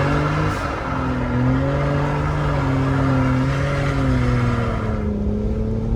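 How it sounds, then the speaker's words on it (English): A Ford Raptor on a winter drive, its exhaust droning steadily with gentle rises in pitch as it pulls through a turn, heard from inside at moderate loudness without speech. "Maybe I can get you a little exhaust sound clip"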